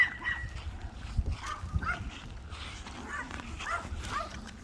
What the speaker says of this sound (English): And my neighbor's dogs are going crazy